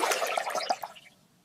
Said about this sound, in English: I pour laundry soap from the heavy detergent bottle.